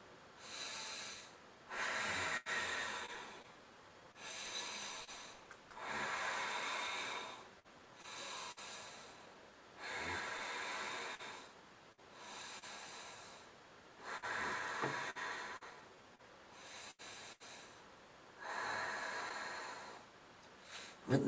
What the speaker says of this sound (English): We can do 5 Ujjayi breathing.